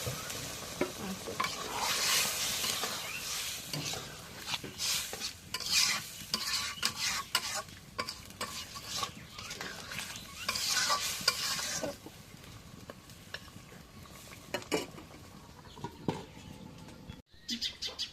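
Meat being stirred and fried in a pan, a steady close sizzle broken by repeated scraping strokes of a spoon, with no talking.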